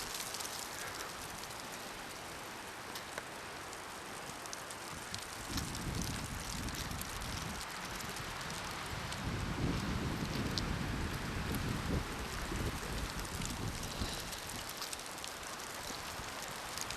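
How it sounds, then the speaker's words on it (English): Wind blowing outdoors in the Colorado mountains, gusting against the microphone as a broad rushing roar that swells in the middle and eases off, steady and fairly close with no talking. "A little windy up here."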